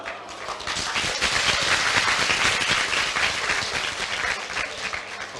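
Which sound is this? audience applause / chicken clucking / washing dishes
audience applause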